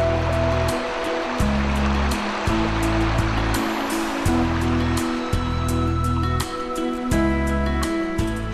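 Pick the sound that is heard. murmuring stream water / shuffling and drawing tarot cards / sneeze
murmuring stream water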